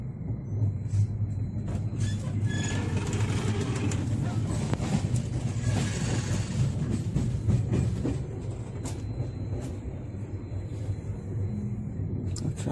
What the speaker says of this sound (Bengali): এই যে বিলাসপুরের কাছাকাছি চলে এসছে এখন ট্রেন।